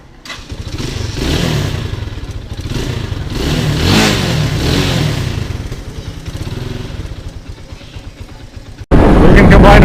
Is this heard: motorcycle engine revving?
yes